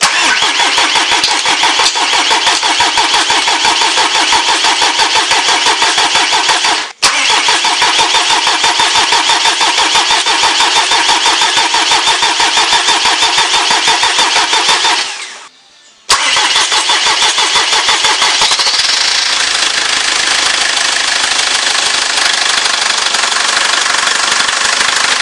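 A Mercedes C220 CDI W202 car engine cranks and catches, then runs with a loud, steady diesel clatter, briefly cut off midway before the rough running resumes, close by.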